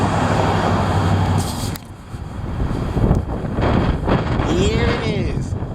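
Heavy wind roars and buffets the microphone in loud, gusting surges, with a brief lull before strong rumbling gusts return.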